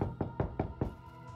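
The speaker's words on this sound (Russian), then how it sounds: "Без лишних раздумий несколько раз громко постучал в дверь." Four loud, evenly spaced knocks hit a wooden door in a video game, each one a hollow thud, followed by a short quiet tail.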